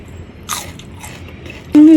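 Crunchy food being bitten and chewed at an all-you-can-eat meal, a few sharp close crunches spaced apart, ending with a voice cutting in.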